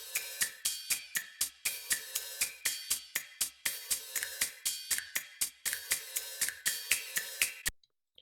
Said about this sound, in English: I just got some cymatics, percussion, and hi-hat loops